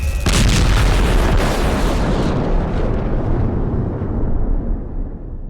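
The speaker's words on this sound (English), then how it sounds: "This thing is going to explode." Huge energy core explosion in a video game, a loud deep boom that hits at once and then rumbles and crackles, slowly fading away over several seconds with no talking.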